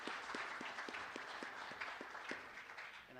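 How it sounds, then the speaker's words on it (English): A conference audience applauds the day's speakers, a steady wash of many hands clapping together at moderate distance, fairly faint and with no voices over it. "I'd like another round of applause for all the speakers today."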